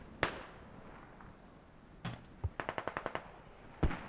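Distant mortar blasts and gunfire in a Squad match: a few isolated heavy thumps spread apart, with a quick burst of about eight rapid shots in the middle, all fairly faint against a quiet background.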